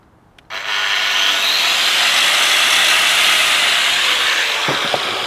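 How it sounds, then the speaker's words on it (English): A cheap angle grinder switched on and spooling up, its whine rising over the first seconds into a loud, steady close-up drone, with a couple of faint knocks near the end. "Normally it goes bzzz and it's just straight going, but this just takes a second to warm up."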